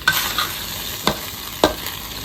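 Pork with red curry paste and yardlong beans stir-fries in a hot pan, a constant loud sizzle broken by three sharp scraping strokes of the spatula, close up.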